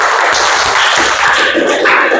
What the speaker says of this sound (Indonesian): Tepuk tangan dulu buat teman